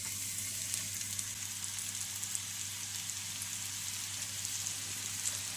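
Masala-coated bitter gourd pieces sizzle and fry on a hot tava, a steady close crackling hiss with fine popping throughout, no voices.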